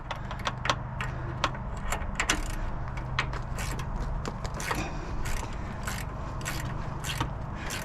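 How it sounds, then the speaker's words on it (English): Metal scraping and clicking mechanism sounds from sway bar removal on a 2020 Toyota 4Runner TRD Pro during a suspension install, with repeated sharp clanks and ratcheting bursts over a steady low hum, close up, no talk. "I'm removing the sway bar."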